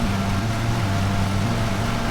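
Close and loud, a mower engine bogs down in tall, wet grass of an overgrown yard, its continuous drone dipping and wavering as the load grows, with no voices.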